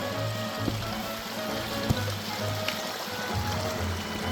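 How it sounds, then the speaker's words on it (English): Steady rushing water from Whitney Canyon Falls in Newhall fills the scene, a dense continuous roar with a few faint clicks and thumps and no talking. "it takes you to Another waterfall"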